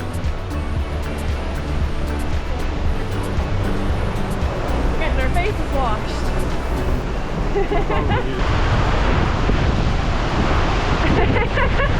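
Heavy rushing water from tall Multnomah Falls in the rainy Columbia River Gorge, a loud steady broadband roar with wind buffeting the microphone, growing stronger toward the end.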